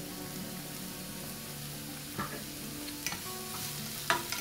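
Onions with a little salt frying in a pan for a Malabar stuffed chicken dish, a steady soft sizzle with a few scraping stirs of the spoon, fairly quiet and close.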